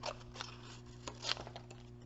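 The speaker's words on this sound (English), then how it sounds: "I'm going to cut that fairly close" Scissors snipping through a paper card piece for a handmade panda card: a few quiet, close crisp cuts spread over two seconds.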